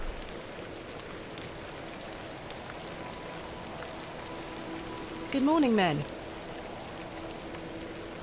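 Steady rain falls throughout a gloomy outdoor scene in the adventure game The Excavation of Hob's Barrow, a constant soft hiss under a brief spoken greeting and a short melodic chime.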